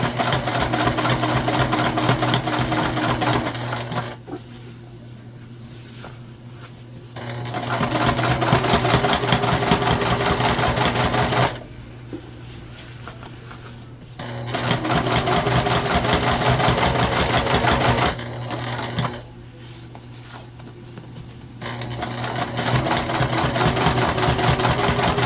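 A sewing machine runs in long steady bursts, top stitching a beginner wet bag, with fast even needle rhythm close by, broken by short pauses between seams.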